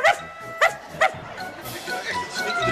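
A small dog gives three quick, high-pitched barks near the start, close and clear, and then goes quiet while people talk and background noise continues.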